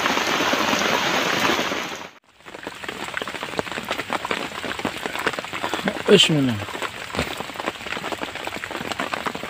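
Steady rain hisses loudly on a surface while fishing for tilapia, briefly dropping out for a moment before resuming, with someone speaking over it and a short splash-like burst midway.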